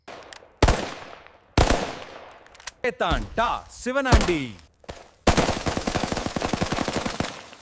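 Diwali firecrackers of the AK-47 kind burst in sharp, loud cracks, then crackle in a rapid machine-gun-like rattle at the end, with someone speaking briefly between the blasts.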